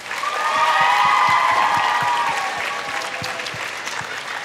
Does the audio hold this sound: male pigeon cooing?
no